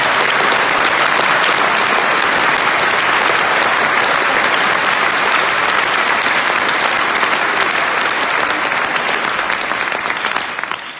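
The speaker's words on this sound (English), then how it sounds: "If you can join me in a hand applause" Sustained, loud applause from a large rally crowd at a Leave Means Leave event in London, dense and steady throughout before tapering slightly at the very end.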